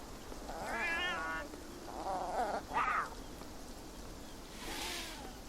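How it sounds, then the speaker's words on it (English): Alley cats in the video game Beyond Eyes give several wavering meows and a sharp, rising hostile yowl, fairly close and loud against a soft rainy background hiss. "They're alley cats that do not like us."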